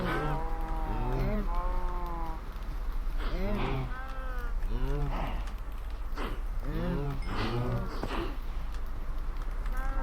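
Baby cows in a Minecraft game moo repeatedly in drawn-out, wavering calls, several overlapping across the stretch over a steady low background hum.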